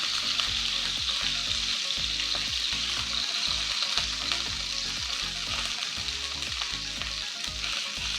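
Food sizzles loudly and continuously in a hot pan, with a low, rhythmic scraping or thumping from stirring repeating underneath.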